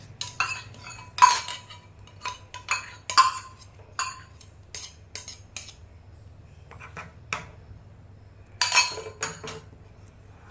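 Metal spoon clinking against a pan while milk powder is stirred in for paneer pede, a series of sharp, bright taps in irregular clusters over a low steady hum, close and fairly quiet.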